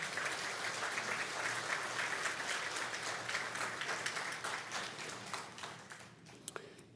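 A church audience claps warmly to welcome a pastor, dense continuous applause that thins out near the end into a few scattered, separate claps.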